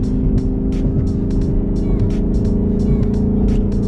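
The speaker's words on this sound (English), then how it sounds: "You could try a third gear pull." Ford Mustang GT engine pulling hard in third gear, a loud, steady, near rumbling drone with rhythmic intake and exhaust pulses heard from inside the car, no talking over it.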